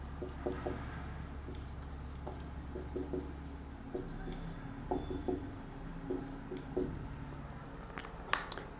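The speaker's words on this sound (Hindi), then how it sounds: "चलिए मैं क्वेश्चन लिख लेता हूं।" Chalk or marker writing out a trigonometry maths question on a board, with a run of short scratching and tapping strokes over a low steady hum, fairly faint.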